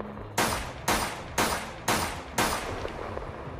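Five loud, evenly spaced gunshots ring out in an anime episode, each sharp blast followed by a short decaying echo.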